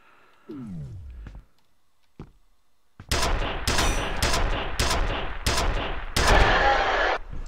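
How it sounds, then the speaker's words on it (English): Assault rifle fire in the shooter game F.E.A.R.: after a quiet stretch with a falling whoosh, several loud automatic bursts ring out in quick succession, each sharp and close, the last one longest. "Assault rifle again."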